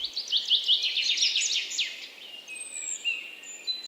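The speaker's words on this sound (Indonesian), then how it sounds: "Dari yang burung berkicau tuh berarti ada tamu yang mau datang" Birdsong plays as a doorbell sound, a rapid run of bright chirping notes followed by a few thinner, longer whistles, close and clear over a low hiss.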